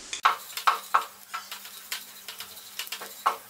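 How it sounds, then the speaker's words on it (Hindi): A spoon stirs turmeric and salt into fried onions in a pan, making a string of quick scraping and tapping strokes with a faint sizzle underneath. "अब मैं इसमें हल्दी और सॉल्ट डाल के मिक्स कर लूँगी।"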